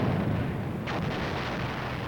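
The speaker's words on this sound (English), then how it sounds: "we hear a barrage of shell fire laid on the objective" Artillery barrage of shell fire laid on an objective, heard from inside a personnel carrier: a dense, continuous low rumble of loud distant blasts merging into one roar, with no voices.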